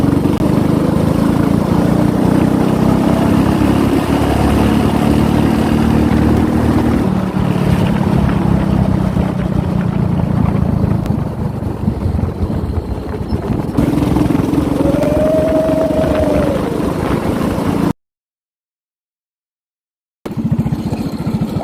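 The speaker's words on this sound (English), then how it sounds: "I feel like I'm on a Harley Davidson driving this thing, and it is loud." A go-kart with a Predator 212 engine runs loud and steady, a continuous rough engine drone held throughout, with a brief rising whine midway and a short dropout near the end.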